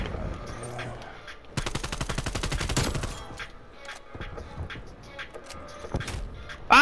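In a shooter video game, a rapid burst of automatic gunfire rattles for over a second, followed by scattered single shots and clicks, with a sharp loud report at the very end.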